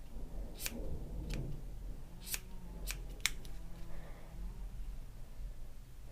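Scissors snip a fluffy yarn pom-pom made on a Clover pom-pom maker, giving a handful of sharp, close cuts spread irregularly over a few seconds, with quiet handling between the snips.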